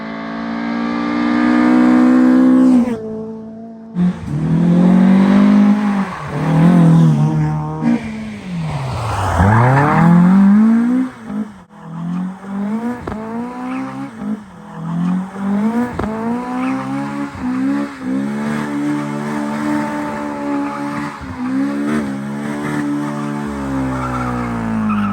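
A Toyota AE86 Trueno with a UK-spec 20-valve engine conversion revs hard through rising and falling sweeps while its tires squeal and skid, loud and sustained, with a brief gap early on.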